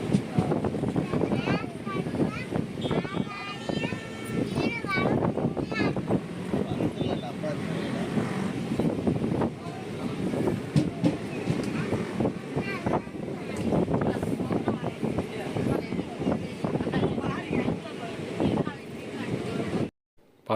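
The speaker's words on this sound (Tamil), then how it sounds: "நம்ம வண்டி ஈரோடு ஜங்ஷன்லேருந்து கரூர் போட அந்த ட்ராக்கில் வந்து வண்டி ஜாயின் ஆகிடுச்சுங்க" A passenger train running on the Erode to Karur line, a continuous rumbling roar with wind buffeting the microphone, carrying on steadily throughout while someone talks over it.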